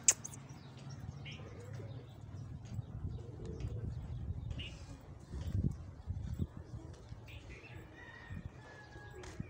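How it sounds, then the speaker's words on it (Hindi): A Lahori Shirazi pigeon coos in low, soft, repeated calls close by, with scattered faint chirps and light rustling around it and quiet voices in the background. "लाहौरी शिराजी मुझे कबूतर लग रही है"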